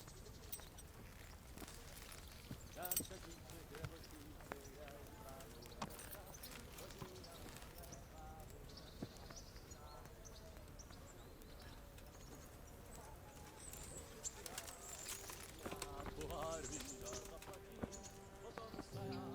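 Horse hooves clip-clop along steadily in Kingdom Come: Deliverance, a continuous rhythmic trot set against busy game ambience and music, with voices talking over it.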